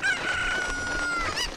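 Chickens in Ocarina of Time cluck and crow in a short game-audio burst, a clear rooster-like crow rising near the start and further squawks following, loud and close with no talk over them.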